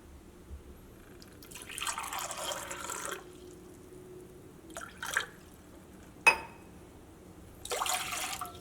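Water poured from a glass into a pan for boiling, several separate bursts of splashing with a sharp clink between them, quiet and close in a still room.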